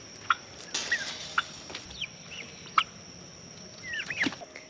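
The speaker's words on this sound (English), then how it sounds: "See all my pretty black Spanish turkeys?" Black Spanish turkeys in a summer garden, a few short gobbling bursts and calls scattered through a steady background hiss, moderately near.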